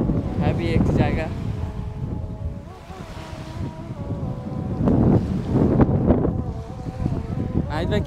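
Wind gusts along the Red Sea shore at Umluj, buffeting the microphone with a rough, fluctuating roar while people talk over it and waves wash in the background.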